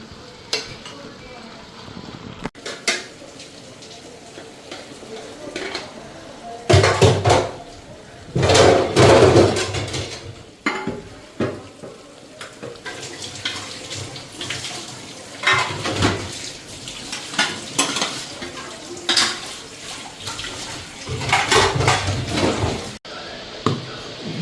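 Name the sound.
stirring dal fritters cooking in a pot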